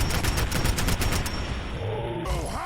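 Rapid automatic fire from a legendary assault rifle in Fallout 4, a dense stream of loud, evenly spaced shots for about two seconds before trailing into game effects and a rising electronic tone.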